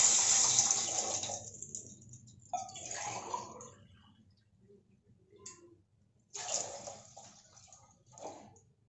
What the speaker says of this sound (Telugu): దీంట్లో ఇప్పుడు ఒక గ్లాస్ రైస్కి 2 గ్లాసెస్ వాటర్ యాడ్ చేస్తున్నాను